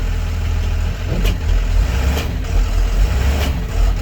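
A truck engine idles loudly and steadily close by during a daily brake test, a deep constant rumble with a few brief sharper clicks or hisses over it.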